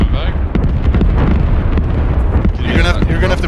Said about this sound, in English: put a shot through this window